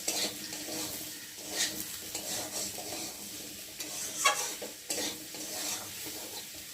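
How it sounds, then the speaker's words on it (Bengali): Mixed vegetables with turmeric and green chillies stirred in a sizzling pan, repeated scraping strokes of a spoon against the metal over a soft frying hiss, close and fairly quiet, no talking. "হলুদ গুঁড়ো, দেবো কটা কাঁচা লঙ্কা, দিয়ে ভালো করে নেড়ে দেবো।"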